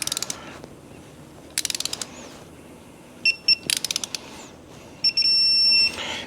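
A torque wrench tightens motorcycle cover bolts to 90 inch-pounds in a crisscross pattern. It gives several separate bursts of quick ratcheting clicks with brief high squeaks, up close and with no talking.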